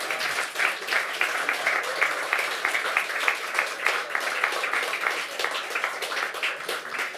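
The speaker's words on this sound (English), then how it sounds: "Round of applause for Banshee, everyone." Sustained audience applause fills an esports LAN grand final venue, dense steady clapping from a large crowd with no talk, holding at an even level throughout.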